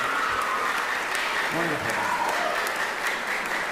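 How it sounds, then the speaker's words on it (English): Audience applauding cellist Masha Lakisova on stage at Lafayette Academy, dense steady clapping filling the room throughout, with a voice speaking briefly midway. "And the crowd goes wild."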